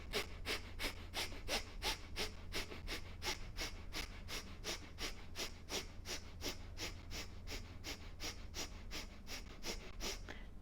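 Short, rhythmic nasal inhalations during a yoga breathing exercise, a quick regular series of sharp sniffs repeating about three times per second throughout, close and fairly quiet with no talking.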